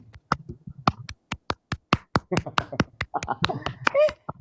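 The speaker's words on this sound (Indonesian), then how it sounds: "Tepuk tangan dulu nak" A single person claps steadily during a live stream, the sharp, close claps landing in an even rhythm about five per second. A faint voice and light background sounds come in near the end.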